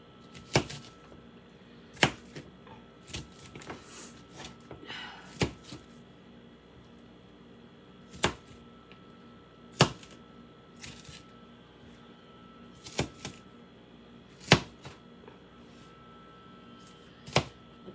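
Half an onion chopped with a knife on a board, sharp separate taps at an irregular pace, fairly close and quiet in between.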